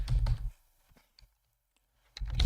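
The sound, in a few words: typing on a computer keyboard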